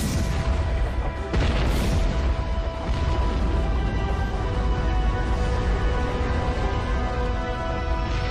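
Heavy cannon fire from an eighteenth-century warship armed with dozens of big guns during the American War of Independence, a loud sustained rumble of booming shots blending into one another, with no voices.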